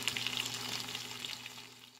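Honey lemon chicken wings fry in a pan over medium-low heat, giving a steady, close sizzle with light crackle that slowly eases off toward the end.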